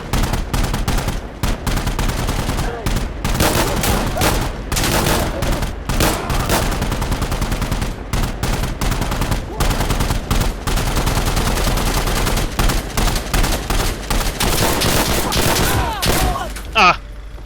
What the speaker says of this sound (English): machine gun's terrifying